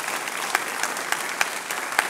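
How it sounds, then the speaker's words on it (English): Applause from the audience at a 2020 Columbiana mayoral forum for five candidates, a steady wash of clapping with a few sharper individual claps popping out, moderately loud and without voices. "let's give all of them a round of applause"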